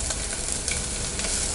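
Onion, tomato and masala are stirred and sautéed in a clay pot for a bitter gourd kulambu. A steady, soft sizzle of frying plays close up with scraping stirs, and no voices.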